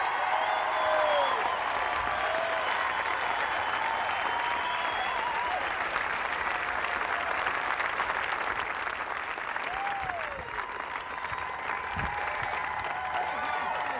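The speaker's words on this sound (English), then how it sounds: "please join me in a round of applause for our 2002 U.S. Women's Open champion, Julie Inkster" A large outdoor golf gallery applauds 2002 U.S. Women's Open champion Juli Inkster, with steady, dense clapping sustained throughout and scattered cheers mixed in.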